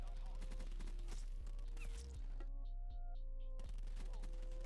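Rapid gunfire crackles through a Black Ops 4 match, with dense bursts of shots layered over game music and a steady low hum, the firing fairly faint and continuous.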